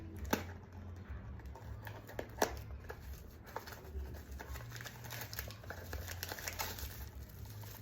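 Packaging of a mini RC truck being opened up close, with soft crinkling, rustling and a few sharp clicks and tears over a low steady hum.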